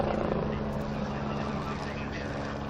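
A helicopter flies in an aerobatic display at a helicopter expo in Tianjin, its rotor and engine making a steady, fairly close drone with harmonic rumble throughout, while voices talk over it.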